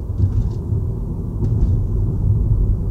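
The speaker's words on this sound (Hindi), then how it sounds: "एकदम मस्त साउंड है पेट्रोल इंजन की" Cabin sound of a Ford EcoSport with a 1-litre EcoBoost turbo petrol engine, a steady low rumble with road hum heard from inside the moving car, alone and without talk.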